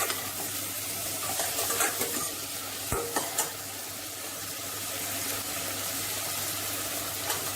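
Tomatoes sautéing in a pan for aubergine sambar, a steady sizzle with stirring clatter and a few sharp utensil knocks near the start, with no talking.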